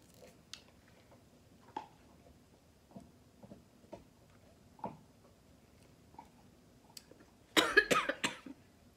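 A burst of several harsh coughs from someone eating chocolate brownie cake near the end, preceded by quiet scattered clicks and small movements.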